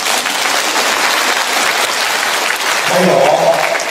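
Audience at a Buddhist gathering in Japan breaks into applause, a steady wash of clapping that swells slightly near the end, with a brief voice surfacing underneath.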